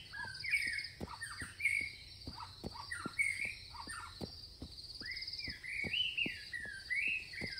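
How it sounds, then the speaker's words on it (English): Steady birdsong from a spooky video game: bright chirps and tweets overlap continuously at a moderate level, with soft regular clicks ticking underneath throughout. "Wow, such a pretty day. The birds are singing."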